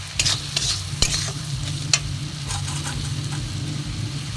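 Spice masala with garam masala and grated ginger frying in a pan while a utensil stirs it, giving a few sharp scraping knocks early on over a continuous loud sizzle.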